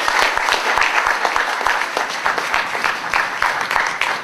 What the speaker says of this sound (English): Could you please give this brother a round of applause